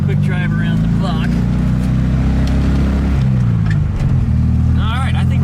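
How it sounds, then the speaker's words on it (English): An air-cooled Volkswagen Beetle engine drones steadily as the car drives around the block, with a shift in pitch midway through and a faint voice over the low rumble. "Quick drive around the block."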